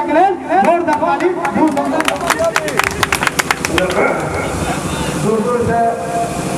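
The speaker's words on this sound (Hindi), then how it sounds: "जोरदार ताली" Clapping from a crowd at a political rally for an independent assembly candidate in Jale, a dense burst of claps and cheering that swells loudly over a voice on the microphone, then thins out.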